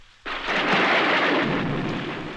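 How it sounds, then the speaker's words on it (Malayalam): A loud, sustained roar of thunder blends with heavy rain at night, bursting in suddenly after a quiet moment and rumbling on without a break. "കണ്ണി കുത്തിയ കാണാത്ത ഇരുട്ടാ പുറത്ത്. മഴയുണ്ട്."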